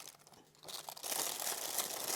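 A small plastic packet holding a vintage Hamilton Khaki Aviation Converter watch is opened, giving a close, continuous crinkling and crumpling that starts soft and turns louder and steadier partway through, with no talking.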